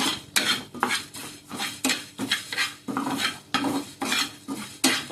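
Spices for a Mangalorean mixed fish curry, including coriander, cumin and fenugreek, fry in a pan while a metal spoon stirs and scrapes repeatedly in an uneven rhythm. The clinks are close and fairly loud, and no one speaks.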